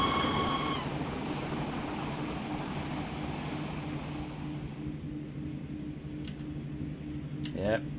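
In Train Sim World, a BR 182 electric locomotive pulls up a gradient under power, giving a steady low hum and rumble of motors, with a brief tonal chime at the start and faint clicks near the end.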